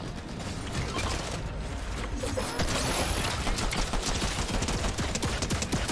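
A deployable turret in Fortnite keeps firing at an enemy in a steady, rapid mechanical rattle of shots that runs loud and continuous throughout, with no talking over it.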